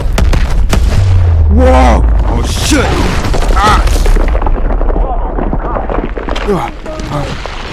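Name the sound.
explosions in video game Call of Duty Advanced Warfare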